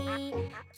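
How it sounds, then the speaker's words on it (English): A cartoon duck quacks in a short series of nasal calls, close and clear, with a faint jingle at the end. "Duck starts with the letter D."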